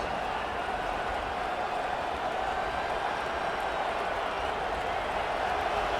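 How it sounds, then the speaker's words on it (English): A football stadium crowd roars in a steady, dense wash of cheering and noise from many distant voices, holding an even level throughout without sharp peaks. "the crowd coming to life here, trying to help this defense down in the red zone"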